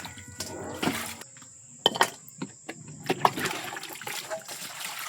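Rinse water poured while washing, likely over dishes or food, gives a trickling, splashing wash with a few sharp splash bursts and clatters, close by and moderately loud with no talk.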